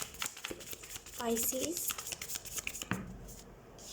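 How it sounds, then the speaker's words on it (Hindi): Tarot cards are shuffled by hand in a quick burst of riffling and soft slapping, close and fairly quiet, with a voice speaking briefly over it. "सबसे पहले हम कार्ड शफल कर लेते हैं"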